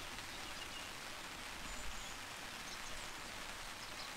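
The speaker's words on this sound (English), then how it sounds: "listening to the raindrops." Rain falling on a tarp at a winter lakeside camp: a steady, soft patter of raindrops, even and continuous, fairly quiet with no voices.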